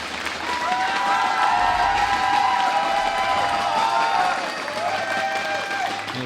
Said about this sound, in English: Give a cheer for Heart.